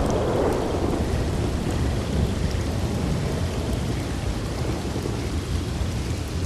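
Heavy downpour with rumbling thunder in the Red Dead Redemption 2 video game, a dense, loud, continuous roar of rain with low thunder rolling underneath, steady throughout with no voices.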